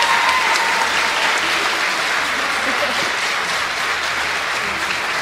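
Audience clapping for guests at a live quiz show event, loud and sustained dense applause holding steady throughout with faint vocal sounds mixed in.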